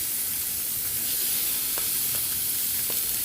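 Pork belly fries in its own rendered fat for a pork belly adobo with atsuete, giving a steady close sizzle and hiss with a few faint pops and no talk.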